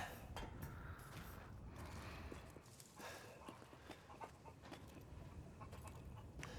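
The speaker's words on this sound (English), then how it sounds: "Chicken!" Chickens cluck and fuss close by in the horror game Resident Evil Village, a steady run of short fowl calls over a busy, dense ambient bed with no talk.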